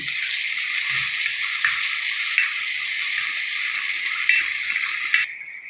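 Curry leaves hitting a hot pan of oil for a village-style brinjal theeyal, giving a steady loud sizzle and crackle throughout that drops off sharply near the end, with occasional faint stirring knocks underneath.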